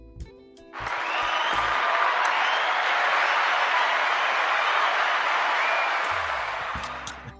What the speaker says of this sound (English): You got a clap button over for this.